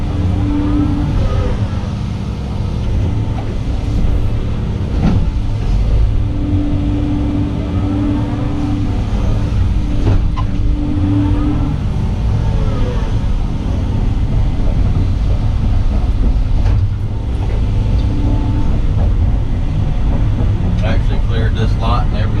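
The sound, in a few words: dump truck hauling driveway fill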